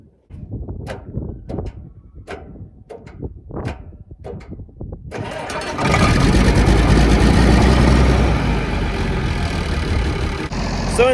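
Tractor engine cranking and then catching after a loose starter cable is fixed, settling into a steady, loud idle that runs alone for several seconds after a few short bursts.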